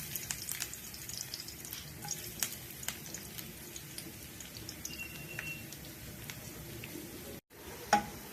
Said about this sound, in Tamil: பூண்டு நல்லா ஒரு மூணு பல் எடுத்து பொடியாக நறுக்கி வச்சு போட்டுப்போம்